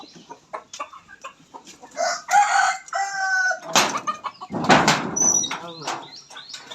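Desi roosters at a chicken shop in India crow loudly several times and cluck, with wings flapping, amid nearby chatter and people talking.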